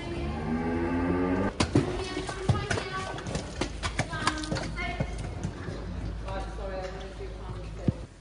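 Dairy cattle moo and clop their hooves as they walk through a footbath, with a long low moo at the start, then scattered hoof knocks and splashes while someone talks over them.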